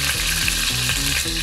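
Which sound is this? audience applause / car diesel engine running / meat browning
meat browning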